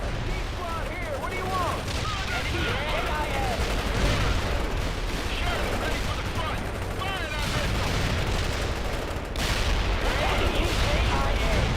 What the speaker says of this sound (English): Good to see those AA guns back in action